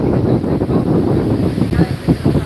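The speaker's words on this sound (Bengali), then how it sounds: "দীঘায় দফায় দফায় চলছে বাতাস প্লাস হচ্ছে বৃষ্টি" Strong gusting wind sweeps Digha beach in the rain, buffeting loudly and close in rolling surges, with a low seaside rumble underneath.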